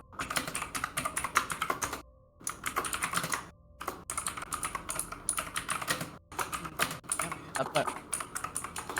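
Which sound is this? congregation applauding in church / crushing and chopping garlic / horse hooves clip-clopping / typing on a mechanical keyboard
typing on a mechanical keyboard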